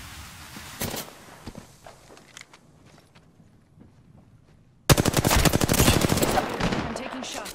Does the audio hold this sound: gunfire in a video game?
yes